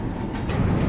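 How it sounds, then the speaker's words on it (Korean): A train runs in a scene from an Argentine science-fiction drama, a loud, close, steady rumble of wheels and carriage noise that swells slightly over a brief moment. "그렇게 타노가 기차를 운행하기로 하고"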